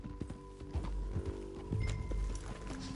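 Horse hooves in a video game clip-clop in a steady walking rhythm, close and clear over a low ambient bed.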